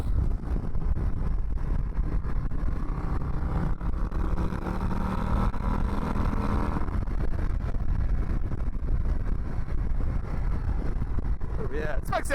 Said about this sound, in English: yeah, this bike sounds good when you get on it.